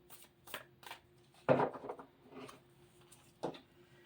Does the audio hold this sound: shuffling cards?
yes